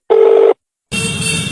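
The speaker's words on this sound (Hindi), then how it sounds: "ले फोन और लगा दे कॉल उसको" A phone call being dialed, with one steady electronic tone for about half a second, then a short silence and a harsher, broader ringing or connecting signal that runs to the end.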